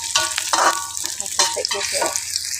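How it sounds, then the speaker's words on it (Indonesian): Corn fritter batter frying in hot oil, a steady close sizzle and crackle with bursts of bubbling as pieces are stirred, with no one talking. "tak goreng dulu guys jagungnya"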